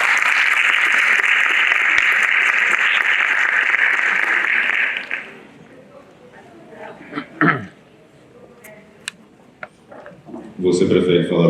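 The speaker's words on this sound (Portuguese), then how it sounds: "Peço palmas para André Webb." An audience at a regional education, science and technology forum round-table applauds André Webb, with dense sustained clapping for about five seconds that then fades into quiet room noise and a few scattered knocks before another brief burst at the end.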